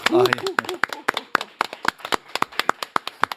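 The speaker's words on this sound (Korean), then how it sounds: "유시민 작가님 박수로 맞이합니다" Scattered clapping from a studio audience welcoming a guest onto a talk show, sharp separate claps in a loose, thinning rhythm that starts under a brief burst of voices.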